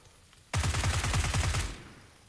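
Gunfire in the PUBG video game, where a loud burst of about a dozen rapid automatic shots starts abruptly out of quiet, runs roughly a second, then fades out.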